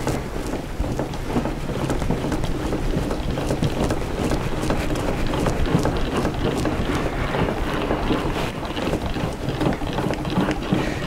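An electric roller shutter, repaired with a 3D-printed part, runs steadily with a continuous ratcheting, geared mechanical whir, close and fairly loud throughout.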